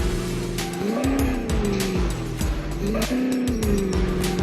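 A Land Cruiser driving in Indian Vehicle Simulator, its engine droning steadily with two rising revs that swoop upward, tyre squeal and skidding noises mixed in, loud and continuous throughout.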